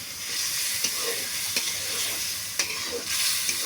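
Picnic curry frying and being stirred in a pan, with a loud continuous sizzle up close broken by several sharp scrapes and clinks of the spoon against the metal, and no talking.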